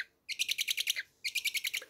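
A pet owl calls while being scratched, giving two close, clear bursts of rapid, evenly spaced high chirps, about eight in each, separated by a short pause.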